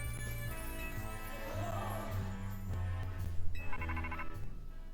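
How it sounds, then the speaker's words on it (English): A mobile phone rings during a recording about spooky animal and Pokémon facts, giving a faint, repeating electronic ringtone under a low background hum. "Oops, that's my phone, my bad."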